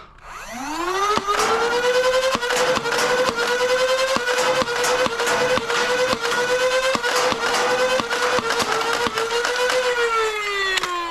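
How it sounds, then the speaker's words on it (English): A Nerf Pro Sender blaster firing Nerf Pro darts, a motor whining up to a steady tone with a rapid series of sharp shots punctuating it, up close and loud. "we're going to be firing 15 shots each, which is the size of the magazine"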